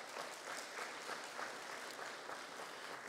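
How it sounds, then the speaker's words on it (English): A church audience at a Father's Day service applauds in a continuous, even wash of clapping that holds steady throughout, fairly soft and with no voices above it. "I think she deserves a round of applause."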